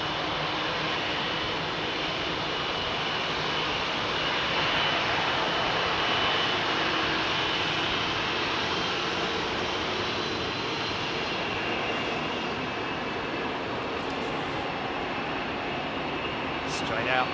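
A jet airliner spools up for departure on a Heathrow runway, bound for Washington, its steady engine roar and whine sustained throughout at a distance, with a voice talking over it.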